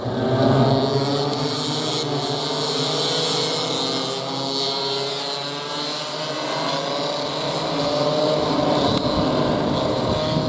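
Heavy-class clubman race cars roar through a chicane in a race final, a dense overlapping engine drone rising and falling as the pack passes, loud and sustained with no speech.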